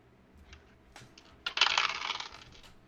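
Dice rolled during a Shadowrun tabletop role-playing session, with faint clicks and then a short, close burst of hard clattering lasting about a second before it settles.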